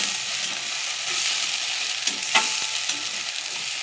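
Ground spice paste frying in overheated oil for a soy chunk curry, a steady loud sizzle with sharp crackling splatters and pops, plus a few stirring scrapes; no voices.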